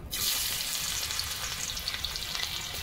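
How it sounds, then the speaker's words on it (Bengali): Chopped onion sizzling steadily in hot mustard oil in a kadai, a loud continuous crackling hiss that holds even throughout, with no voices. "তেল গরম হয়ে গেছে, পেঁয়াজ কুচি দিয়ে দেবো।"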